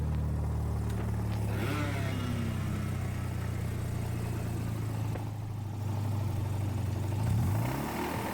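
A damaged Mazda 13B rotary engine with a heat-melted bearing runs steadily with a rough, buzzing drone, briefly dipping before a short rev near the end.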